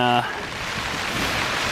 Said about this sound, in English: You can hear the rain, and life is beautiful.